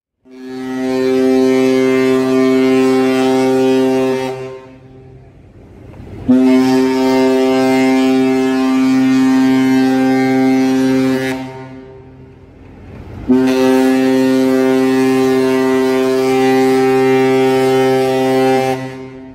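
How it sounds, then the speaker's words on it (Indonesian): A passenger ship docked at the pier sounds three long, deep horn blasts, loud and steady, each several seconds long with brief gaps between them. "Jika kapal bunyikan 3 panjang saat sandar di dermaga"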